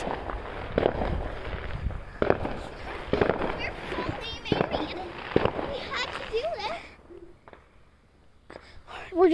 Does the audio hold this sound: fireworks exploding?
yes